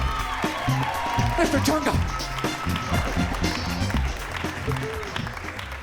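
A live comedy show audience applauds in a steady wash of clapping with scattered whoops and cheers, while a voice speaks over it near the microphone.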